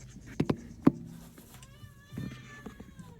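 Cats meow a few times, several short close calls early on followed by longer, higher drawn-out mews, with faint background noise and no talking.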